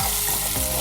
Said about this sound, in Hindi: 2 से 3 मिनट तक इनको ऐसे ही फ्राई करेंगे ताकि हमारे आलू थोड़ा भुनने लगे